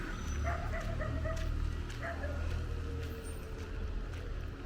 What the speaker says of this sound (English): There are some dog barking over there.